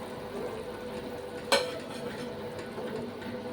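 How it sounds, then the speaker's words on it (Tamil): Kashmiri chili powder, coriander powder, turmeric and salt stirred into a tomato mixture in a pan for tomato egg thokku: a steady, soft scraping swirl with one sharp utensil clink near the middle. "இதையும் நல்லா மிக்ஸ் பண்ணிடலாம்."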